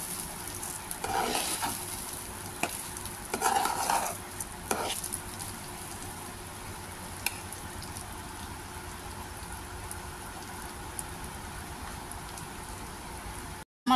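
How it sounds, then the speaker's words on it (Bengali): Raw rice grains fry in oil in a pan for pulao, a soft continuous sizzle with occasional stirring scrapes near the start, steady and moderately quiet. "ভালো করে ভেজে নিই"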